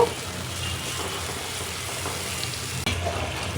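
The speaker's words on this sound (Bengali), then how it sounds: "এখন ভালো করে মশলাটা কষাবো।" A spice mixture frying in a pan with salt, producing a continuous close sizzle with occasional stirring scrapes and a sharp clatter near the end, no talk.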